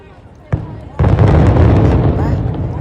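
Fireworks going off, with one sharp burst followed by a sustained, dense barrage of loud booms and crackles that stays strong to the end.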